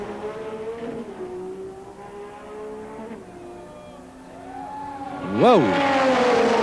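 A Nissan Skyline drag car launches at the 1999 Battle of the Imports drag race, its engine rising in sharp rev sweeps and then holding a loud, strained note, while commentators talk and exclaim over it.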